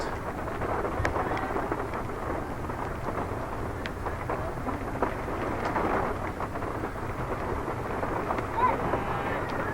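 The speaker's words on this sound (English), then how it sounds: "The rain is coming down in buckets at the moment." Heavy rain pours steadily at an outdoor women's softball game, a dense unbroken roar of rainfall filling the scene while someone talks over it.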